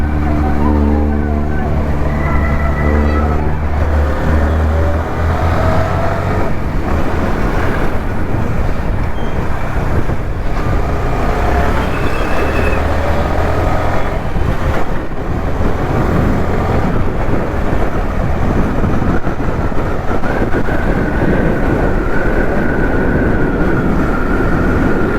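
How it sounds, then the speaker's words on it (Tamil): A car's exhaust roars loudly and steadily up close, with a tonal engine note at first that turns into a dense, continuous rumble lasting the whole stretch. "எக்ஸாஸ்ட் பாருங்கள், வேறு மாதிரி."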